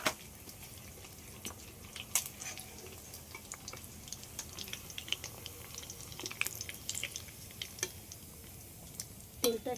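Chicken 65 pieces fry in hot oil with a soft, continuous sizzle, while a utensil stirs and clinks against the pan now and then.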